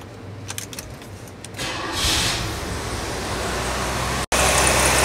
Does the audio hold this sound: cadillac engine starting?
yes